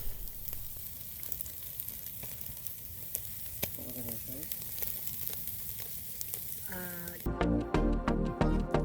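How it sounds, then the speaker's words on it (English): Food sizzles and crackles steadily in a pan over an outdoor campfire, a close, continuous frying hiss with occasional pops and scrapes, ending with louder clattering. "one night we cooked dinner over the fire"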